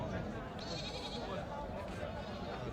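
A goat bleats faintly and briefly amid the low murmur of a goat market in Dina, with people talking nearby.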